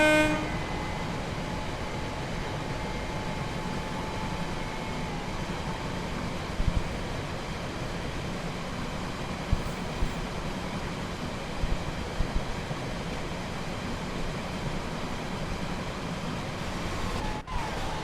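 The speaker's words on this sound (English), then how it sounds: "These trains pick up speed really quick" Glossop to Manchester passenger train picking up speed, a steady loud rumble and rush of rail noise that runs continuously, with a brief sharp sound near the end.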